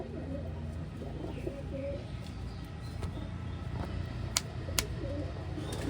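Soft pigeon coos murmur steadily over low background noise, with a couple of brief sharp clicks near the end.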